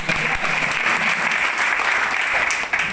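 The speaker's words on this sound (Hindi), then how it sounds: "ताली बंदी सर, ताली तो बताओ" Loud, sustained applause from the crowd at a health marketing company event, dense clapping filling three seconds with little letup.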